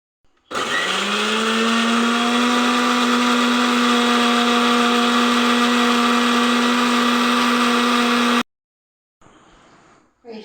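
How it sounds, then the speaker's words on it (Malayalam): A kitchen mixer grinder whirs steadily at full speed for about eight seconds, blending garlic and coriander leaves into a paste, then stops abruptly, leaving only faint kitchen sounds. "ഇതിട്ടൊന്ന് അരച്ചെടുക്കാം മിക്സിയിൽ."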